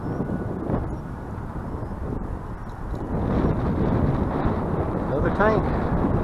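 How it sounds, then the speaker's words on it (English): Strong wind buffets the microphone on the water during bass fishing, a loud low rumble that grows heavier midway, with someone talking over it and a brief line whine near the end. "That'll show you how hard this wind is blowing."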